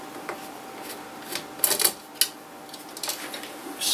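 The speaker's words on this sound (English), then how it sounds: "I'm going to unscrew it." Screws are unscrewed from a DIY decorative lamp, producing faint irregular metallic clicks and scrapes close up in a quiet room.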